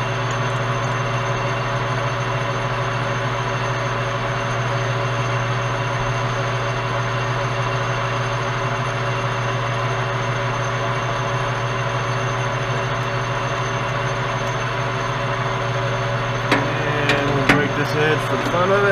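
A metal lathe facing the end of a part runs steadily with a constant machine drone and tonal hum, ending in a few brief sharp metallic clicks near the close; no talking is heard.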